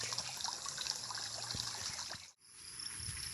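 River water flowing steadily in an outdoor setting near an old disused rice paddy, a continuous soft trickling wash that runs alone, dipping briefly to near silence before resuming.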